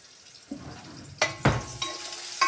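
Onion sautés in a pan after green beans cooked in butter, a soft sizzle under a few clanks and scrapes of a utensil against the pan; no talking.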